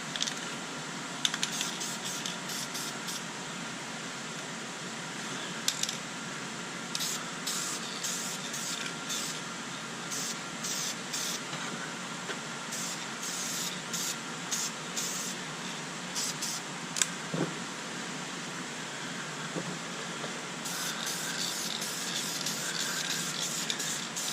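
A medium light spray-paint coat applied to interior plastic, vinyl and leather: a continuous close hiss lasting the whole stretch, broken by many short bursts where the spray is pulsed on and off.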